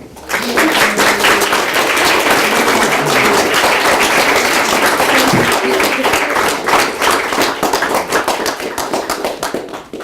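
Loud, dense clapping from wedding ceremony guests celebrating the newly married couple, sustained and even for about ten seconds with a faint voice briefly underneath.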